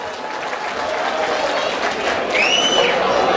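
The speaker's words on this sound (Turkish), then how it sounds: "Alkış rica ediyorum dostlar sizlerden." Audience applause at a 2017 event, a steady wash of clapping from a crowd, moderately loud throughout, with a short whistle-like tone near the end.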